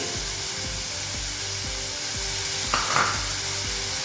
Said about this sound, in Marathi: आला लसूण पेस्ट या सगळ्या जरा बरा परतून घेतलो सर